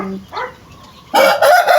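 Pet chickens and a rooster kept in a cage give a short run of clucks, then a loud, close rooster crow that carries through to the end.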